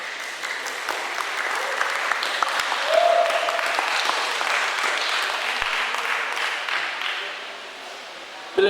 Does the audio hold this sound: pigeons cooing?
no